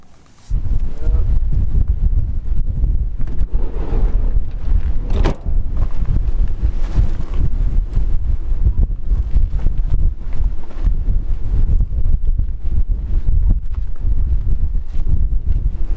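Cold wind on a sunny winter day buffets the microphone in a loud, steady roar that lasts throughout with rough gusting texture.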